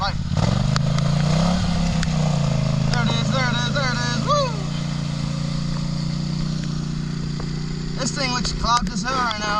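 A heavy 500 motorcycle idles loudly and steadily close by during a test drive, its low rumble running throughout while people talk over it.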